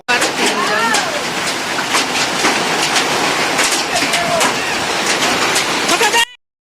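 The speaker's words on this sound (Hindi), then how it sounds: "आज तो हेल स्टॉर्म भी हो रहा है, बर्फ़बारी हो रहा है" Heavy rain and a hailstorm pounding down in a dense, continuous roar, loud and close throughout, with a voice talking underneath.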